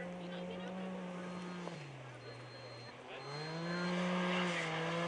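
An off-road race car in the Norra 500 rally drives along the Erendira riverbed, its engine droning steadily with pitch dips and rises as it shifts and accelerates, growing louder toward the end as it nears.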